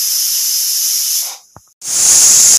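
A pressure cooker of rice is opened and vents a loud, steady hiss of steam. The hiss cuts off briefly with a small click and then bursts back at full force.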